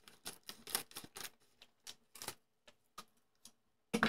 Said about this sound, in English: So I'm gonna cut it with my scissors